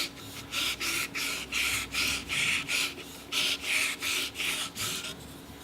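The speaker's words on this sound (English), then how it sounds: "Remember to move your sandpaper around" Sandpaper rubbed by hand inside a bootube, giving a steady run of about a dozen loud, rhythmic rasping strokes close up with short pauses between them.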